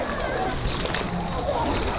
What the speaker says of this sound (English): Real waves here, folks. Real waves.